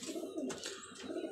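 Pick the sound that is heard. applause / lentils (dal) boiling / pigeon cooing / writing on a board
pigeon cooing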